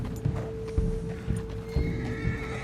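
A horse gallops with quick, rhythmic hoof clops and a brief whinny while being ridden in Red Dead Redemption 2, over a steady background tone, close and moderately loud.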